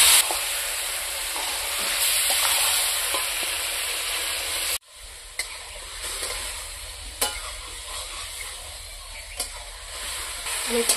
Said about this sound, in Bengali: আমি খাসির মাংসটা একটু নাড়ানাড়ি করে নিই।